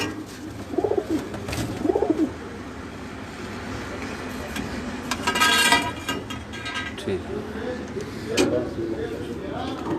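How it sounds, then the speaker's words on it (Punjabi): Breeding pigeons in cages coo in low, throaty bursts, several calls spread over the clip, with faint traffic noise and a murmur of background voices. "ਇਹ ਜੀ ਤੁਹਾਨੂੰ ਕਾਜ਼ੀ ਖਾਲਦ ਸਾਹਿਬ ਹੋਰਾਂ ਬਰੀਡਰ ਕਬੂਤਰਾਂ ਦੇ ਕੇਜ ਦਿਖਾਏ ਨੇ ਜੀ"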